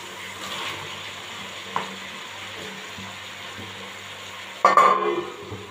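Spongy gourd and rohu fish being stirred in a frying pan, a steady low sizzle with faint scraping that swells into a louder burst of stirring and frying near the end, no talking.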